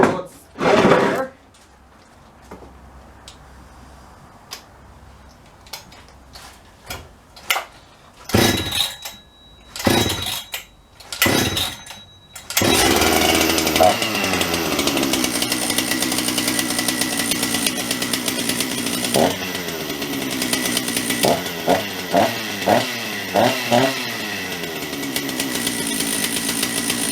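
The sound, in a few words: Jonsered 630 chainsaw with 52mm big bore, cold start and running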